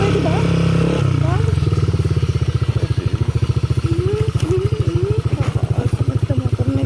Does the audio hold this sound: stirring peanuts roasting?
no